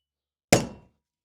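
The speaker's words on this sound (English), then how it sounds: "give that a couple whacks and see if it flattens out for us" A hammer strikes a metal ring resting on two steel blocks, one sharp, bright clang that rings briefly and fades within half a second, alone in silence.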